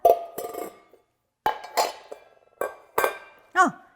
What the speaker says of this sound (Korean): 이렇게 엎어놓고 주방 도구들을 이용해서 소리를 한번 들어볼까?